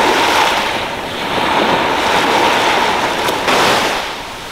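Waves break and wash steadily onto a beach, a loud continuous roar of surf close by, mixed with wind buffeting the microphone, swelling and easing over a few seconds with no voices.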